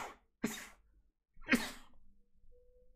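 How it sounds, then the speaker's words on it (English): Two sharp sneezes, one after the other, separated by a brief pause, loud and close in a quiet room. "sorry, I need to sneeze."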